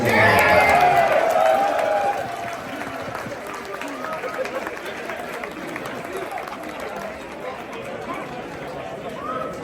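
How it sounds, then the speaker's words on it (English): Crowd applause and cheering for the host nation, the United States, at the opening ceremony of the Warhammer World Championships 2023 in Atlanta, loudest in the first two seconds before settling into a steady murmur of clapping and chatter. "give a big round of applause for our hosts, the United States"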